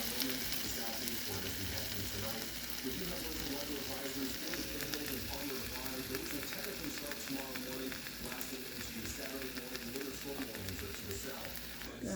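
Eggs fry in a pan beside cooked bacon, giving a continuous soft sizzle and crackle throughout with faint background noise.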